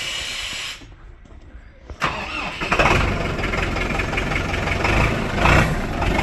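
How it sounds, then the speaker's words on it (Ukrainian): Scout TD-1104C tractor engine cranks and catches after a brief pause, then settles into a loud, steady diesel idle that runs to the end, close by with no talk. "Заводиться хорошо, да?"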